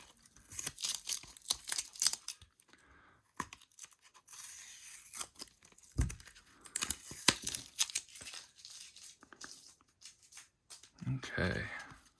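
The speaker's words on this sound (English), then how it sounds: "Let me get some of this tape off here so that we can flip through each of the cards individually." Tape is peeled and torn off a stack of baseball cards, with crinkly ripping bursts and rustling handling that come and go over several seconds, close and fairly quiet; a person talks intermittently in between.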